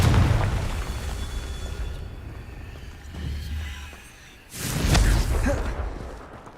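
Confringo blasting spell detonating in Hogwarts Legacy, a deep booming blast with a whooshing rumble that fades, then a second loud burst and rolling decay, alone without talk.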